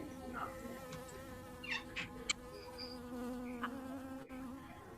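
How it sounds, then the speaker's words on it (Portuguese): A buzzing insect drones steadily and close for several seconds with a few brief louder swells, alone without any talk. "A voz do zumbido é rouca e afiada ao mesmo tempo."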